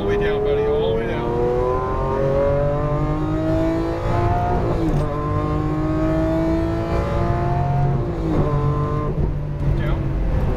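A Lamborghini Aventador V12 at full throttle on a racetrack, loud and close, revving up through rising pitch sweeps with brief dips at gear changes, while a voice talks over it.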